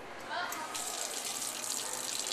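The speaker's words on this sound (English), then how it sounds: "Cold water is now turning on." Cold water runs from a tap during an electric water heater test, a close steady gushing stream that swells in after a brief start.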